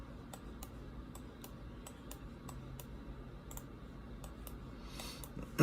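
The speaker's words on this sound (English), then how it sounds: "Oh yeah, that's my keyboard." Computer keyboard keys clicking in sparse, irregular taps at close range over a low steady background hum, with no one talking.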